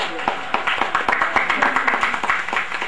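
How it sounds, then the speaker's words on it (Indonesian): An audience claps together at a book discussion event, a dense, steady patter of hands filling the room for about three seconds, with some voices mixed in underneath. "Kasih tepuk tangan dulu juga boleh."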